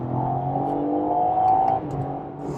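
A BMW M3 Competition xDrive engine under full throttle, heard from inside the car as a loud, rising engine note that climbs steadily, then dips briefly near the end as it shifts.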